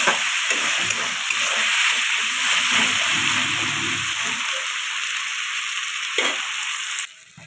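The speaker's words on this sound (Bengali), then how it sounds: "আদা রসুন ভাজা ভাজা হয়ে গেছে, এবার আমি দিয়ে দেবো টমেটো" Tomatoes frying in a pan with ginger and garlic for mutton-fat ghugni, a steady broadband sizzle that runs loud and close throughout, with a slight drop near the end.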